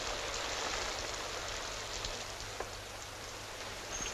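Steady rain falling in a 1941 film scene forms a continuous, even hiss of dense patter throughout, fairly soft and unbroken, with no voices over it.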